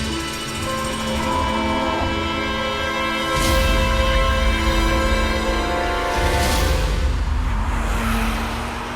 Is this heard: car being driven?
yes